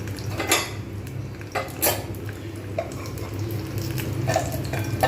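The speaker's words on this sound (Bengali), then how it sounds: "তেল গরম হয়ে গেলে এইবার আমি এটাকে এর মধ্যে দিয়ে দেবো, জাস্ট এটাকে ফোড়ন দেওয়ার জন্য" Spices tempering in a little hot oil in a pan on low heat for matar dal, with steady sizzling and frying under repeated clinks of cookware and utensils, close and moderately loud.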